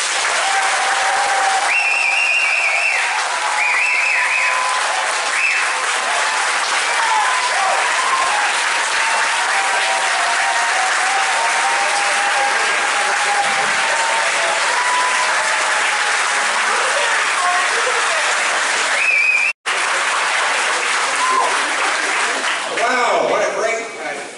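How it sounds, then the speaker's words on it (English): A loud, sustained audience applause fills a fire department hall in Barrington Passage as a politician is introduced, with cheering voices and shouts mixed into the clapping throughout. "if everybody wants to join me in a loud round of applause"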